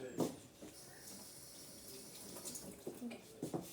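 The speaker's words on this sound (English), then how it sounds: "Give my hands a quick wash." Hands being rinsed under a running kitchen tap, a short, soft stream of water splashing into a sink with a few brief louder splashes and drips, fairly quiet and close.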